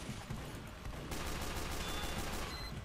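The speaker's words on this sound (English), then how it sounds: "Who the hell is shooting it?" Rapid gunfire from a Team Fortress 2 match, dense overlapping shots crackling continuously at steady loudness, growing busier and brighter after the first second, with no talk.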